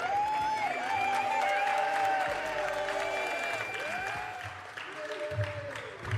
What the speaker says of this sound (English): Let's give them a round of applause for their birthday.